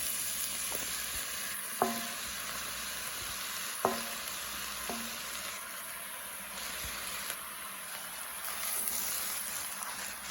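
Mushrooms fry with sweet potato and celery in a soup pot, a steady close sizzle with a few sharp clicks of stirring and utensil taps against the pot, no talk.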